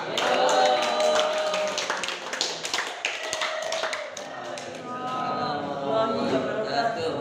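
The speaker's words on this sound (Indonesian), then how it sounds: "Tepuk tangan untuk Iqbal." A classroom audience claps for a group representative about to present at a teacher-training session, a dense burst of hand claps that tapers off, with voices murmuring through it.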